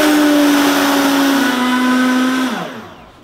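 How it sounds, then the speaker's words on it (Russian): A countertop blender grinds flax seeds at a steady, loud whine with a constant pitch that sags slightly, then winds down and stops near the end; no voices. "Льняное семя измельчили в блендере."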